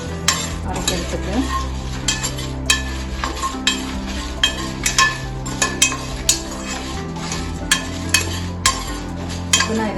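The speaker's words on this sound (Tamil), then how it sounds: "இது கொஞ்சம் லைட்டாக வறுத்தாலே போதும் அரைக்கிறதுக்கு." Spices for mutton paya are lightly dry-roasted in a pan, with a spoon or spatula scraping and clinking against the metal in a steady stirring rhythm over a low sizzle, close up and with no talking.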